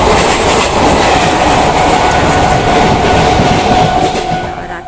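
A loud, steady rumble of a Kolkata local train running on the tracks at night, with a continuous rattling clatter from inside the ladies' carriage.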